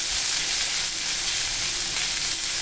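Onions tossed in oil for a gravy sizzle and fry in a pan, a loud, steady hiss that runs without a break and with no voices.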